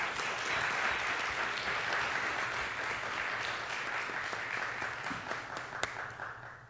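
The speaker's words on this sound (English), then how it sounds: "Let's give him another round of applause." Audience applause at a talk, a steady wash of many hands clapping that carries on for several seconds before thinning out near the end.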